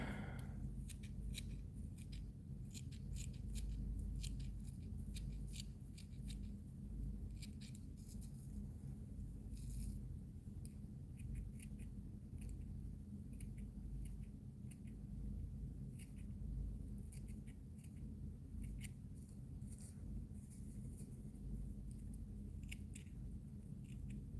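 Close, quiet scissor snips trimming fly tying material repeat in quick irregular bursts, small crisp cuts continuing steadily with no talking.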